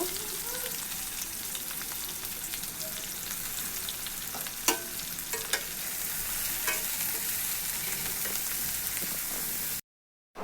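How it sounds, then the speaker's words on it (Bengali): Sliced onions fry in oil until crisp and brown, a continuous dense sizzle with light stirring and a few sharp clacks partway through, then a brief drop to silence near the end. "পেঁয়াজটাকে বেরেস্তা করে"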